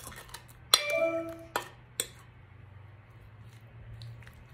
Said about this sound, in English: we're just going to spoon the pineapple right in there and spread